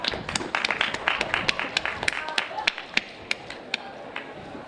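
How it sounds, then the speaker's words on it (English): A debate audience at a 2017 ASI student presidential event gives the staff a round of applause. Many hands clap in a dense burst that gradually thins out to scattered single claps near the end. "let's go ahead and give them a round of applause"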